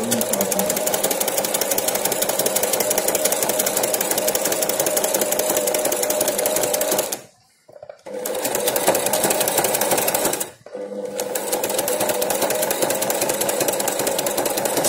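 A Singer sewing machine fitted with a flower stitch foot runs a zigzag stitch, loud and steady with a fast mechanical rhythm, pausing twice briefly before resuming.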